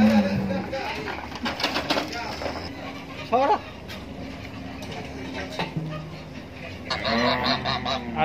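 Ducks call with repeated nasal quacks and honks at an animal market in Bahrain where goats and chickens are also kept, heard under someone talking amid market bustle.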